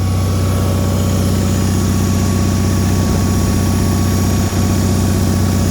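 Bolens HT-23 garden tractor engine runs after repair, a loud, close, steady mechanical drone with a constant low throb that holds evenly from start to finish.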